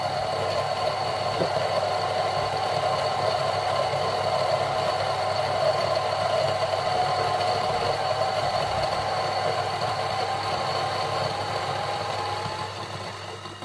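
A T64 coffee grinder with 64mm flat burrs grinds slowly at 800 RPM, giving a steady, even motor hum with a faint rattle that runs throughout and begins to fade at the end.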